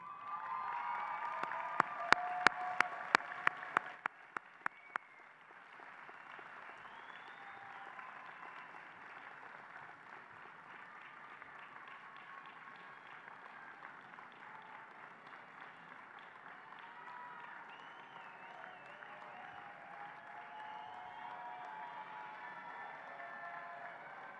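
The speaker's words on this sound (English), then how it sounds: "give them a round of applause." Law school graduates at a spring commencement ceremony applaud their families, a few sharp nearby claps at the start giving way to broad, steady applause from a large crowd filling the hall.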